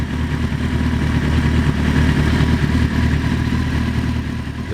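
A 1991 Honda CBR 400RR fitted with a Fireblade engine runs steadily nearby, a loud continuous rumble with a lumpy idle clatter and no voices over it.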